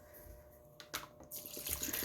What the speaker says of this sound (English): Now that my sea moss is all clean, I am going to add my spring water and my lime.